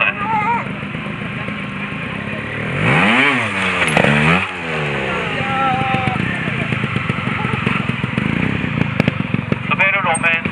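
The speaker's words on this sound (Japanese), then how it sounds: "滑る路面でこうアクセルやっぱ上げてクラッチミートするときにやっぱ滑ってますね" A trial motorcycle revs hard as it tries to start on a slippery surface, its engine rising and falling in quick surges mid-clip, then settling into a rough, clattering idle while voices talk over it.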